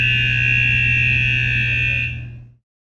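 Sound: H2S gas detection alarm on offshore rig

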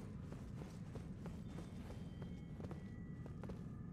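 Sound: horse hooves in a video game

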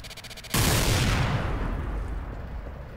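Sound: Vulcan minigun spinning up in a video game

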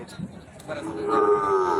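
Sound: cow mooing at a cattle market

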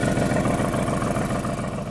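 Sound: Mercedes-AMG GT C Roadster exhaust at idle

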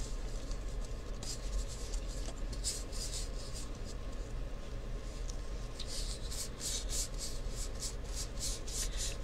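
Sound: rubbing paint onto a cup

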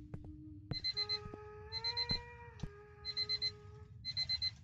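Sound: alarm clock ringing in Paranormal Investigators video game

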